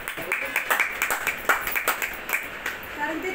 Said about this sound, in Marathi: सगळ्यांनी विद्या शिंदे मॅडम साठी एकदा टाळ्या होऊन जाऊ दे